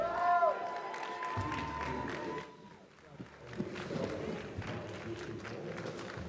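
Audience at a loan officer summit applauding and cheering to welcome a speaker to the stage, a sustained mass of clapping and crowd noise with voices mixed in, dipping briefly before swelling again.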